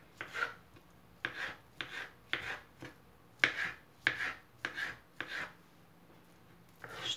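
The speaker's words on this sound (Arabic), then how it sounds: "وغادي نجي ونبدا نقطع هنايا، نشوف اش كيبان. غادي نبدا نقطع مربعات صغار" Green figs are cut into small squares with a knife on a board, giving about a dozen close, rasping cutting strokes in an uneven rhythm with short pauses between them. No one talks.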